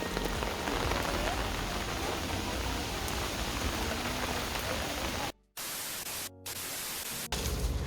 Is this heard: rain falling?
yes